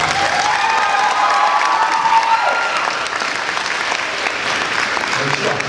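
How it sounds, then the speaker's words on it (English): Audience applause at a school district choral concert, a sustained wash of clapping from a large crowd, with a voice carrying briefly over the start. "Let's give her a round of applause."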